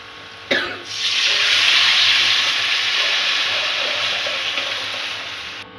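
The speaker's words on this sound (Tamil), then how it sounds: "மசாலா தண்ணி ஊற்றிக்கலாம்" Masala water poured into a hot frying pan of onions and curry leaves for pepper curry gives a sharp hit, then a loud hissing sizzle and steam that slowly fades over several seconds.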